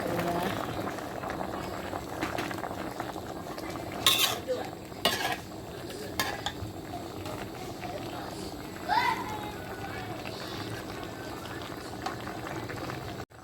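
A pot of Thai pork and eggplant curry boils with a steady bubbling, broken by a few clinks of a utensil against the pot. A person talks over it.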